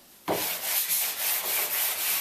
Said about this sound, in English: If you spackled big holes in the wall, you're going to want to hit them with the sanding sponge real quickly.